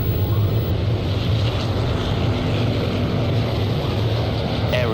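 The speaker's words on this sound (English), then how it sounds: "Aeroplanes." Propeller aeroplanes flying overhead in a war film set in the Vietnam war against the French, a steady broad droning roar that stays constant and fairly loud throughout, with no clear talk.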